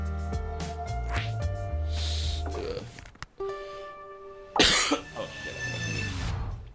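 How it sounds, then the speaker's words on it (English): A few short, sharp coughs and throat-clearing bursts break through a busy background of music from the game A Space for the Unbound, one loud burst near the end. "you might occasionally hear coughs because I missed the timing to mute"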